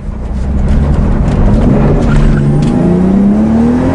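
A 1993 Toyota Supra turbo, apparently fitted with a large aftermarket exhaust muffler, roars loudly past up close, its engine note climbing steadily as it accelerates, with a faint tire squeal and no talking.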